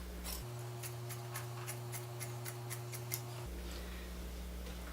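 Scissors snip away excess lace gown fabric in a series of small, evenly spaced crisp cuts over a steady low hum, close and fairly quiet, with no talking.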